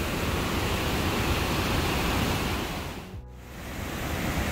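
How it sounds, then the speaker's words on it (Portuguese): Rhine Falls in Switzerland pours down in a loud, continuous roar of rushing water. It swells and dips briefly near the end as the level shifts, with no voices over it. "Olha a água caindo."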